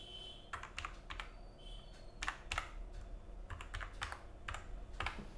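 A computer keyboard clicks in irregular bursts of keystrokes as a PAN number is typed in, quiet and close, with no talking.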